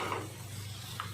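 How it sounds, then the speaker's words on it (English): Tomatoes being stirred into a hot pan for a pan pizza sauce, a soft steady scraping and sizzle over a low hum, with faint utensil taps, close and quiet. "Now we are going to put our tomatoes in that. Give it a nice mix."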